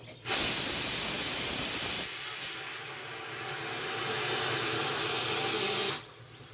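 Oil, about three spoonfuls, sizzles and hisses in a medium-size kadai, loud steady frying noise starting abruptly, easing slightly after two seconds and continuing until it cuts off near the end.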